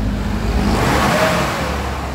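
A Mitsubishi Adventure engine revs up steadily and loudly up close, a continuous rising whir and roar with no talk over it.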